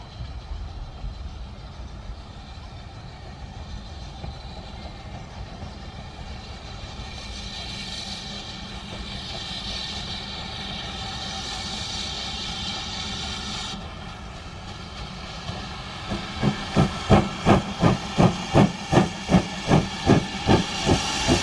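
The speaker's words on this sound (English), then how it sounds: "we might get the odd train go past there" A steam train hisses loudly and builds, then regular chuffing beats and clanking grow as it passes close by.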